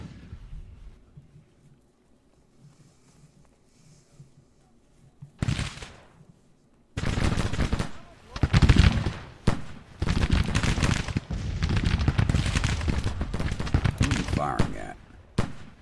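Musket volleys from skirmishers in the Civil War strategy game Grand Tactician crackle in ragged bursts, starting with a single sharp report and swelling into sustained, overlapping rifle fire that stays loud and continuous to the end.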